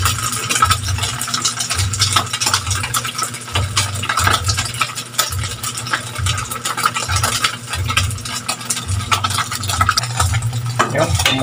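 A pot of okra soup bubbles on the stove ahead of sotanghon noodles going in, with a steady close churn of boiling water, rattling lid-like clatter and a low pulsing rumble throughout.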